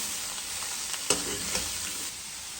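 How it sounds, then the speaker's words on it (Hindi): A spring roll mixture sizzles steadily in a hot pan, with a broad continuous frying hiss and a few louder stirring scrapes near the middle, close and alone. "1 मिनट के लिए मैं इसको फ्राई करती हूँ"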